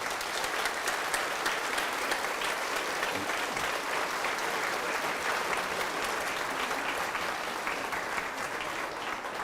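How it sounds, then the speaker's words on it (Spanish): Sustained applause from a congregation at a Catholic mission service in Mexico, dense and even clapping that fills the whole stretch at steady loudness and tapers slightly toward the end. "Fuertes aplausos al Señor."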